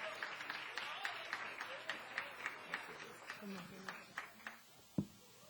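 Congregation applause in a church service, steady clapping with a clear voice speaking over it, ending in a sharp thump.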